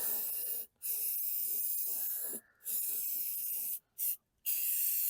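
Rattle-can spray paint hisses onto a VW Beetle in a budget paint job, coming in several steady bursts broken by short pauses.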